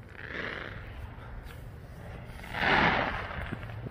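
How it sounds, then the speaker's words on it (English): Distant fireworks on July 4 go off as two muffled booms a couple of seconds apart, with faint crackle and quiet ambience between them. "There's fireworks all around us."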